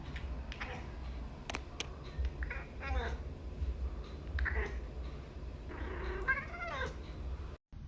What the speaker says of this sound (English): Gunther, what kind of cat are you?